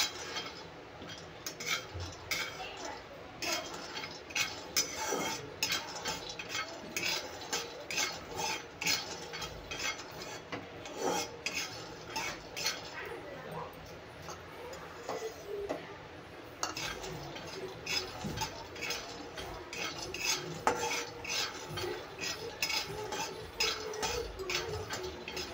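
Peanuts being dry-roasted and stirred in a pan, with a spoon scraping and clinking against the metal in a steady, irregular rhythm, quiet and close, with no talking.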